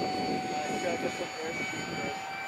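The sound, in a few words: engine of a Draken RC model jet in flight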